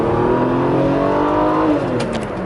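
A Mercedes-Benz W124 station wagon on a test drive around the block, its engine humming steadily with a continuous, fairly loud drone that rises slightly in pitch, with no talking.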